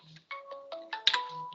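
A mobile phone rings indoors with a short melodic ringtone of bright, rising tonal notes, close and clear for under two seconds, with nothing else heard.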